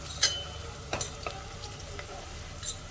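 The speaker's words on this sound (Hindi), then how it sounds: "प्याज को भी मैं लगातार घुमा रही हूँ" Onions sizzling steadily in a pan over high heat, broken by a few sharp scrapes and clicks as a spoon stirs them, close and fairly loud with no voices.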